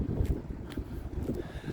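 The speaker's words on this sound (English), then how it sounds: "Boy, that wind is something else today." Gusty wind buffets the microphone outdoors, a low rumbling roar that swells and dips unevenly across the short stretch with no talk.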